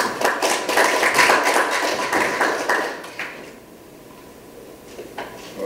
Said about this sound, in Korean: 우리 신 시장님한테 큰 박수 부탁드립니다